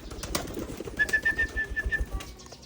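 Pigeons flying during free flight recall training: a thin sustained whistle of about a second, with brief soft flutters and light bird sounds over a quiet low rumble outdoors.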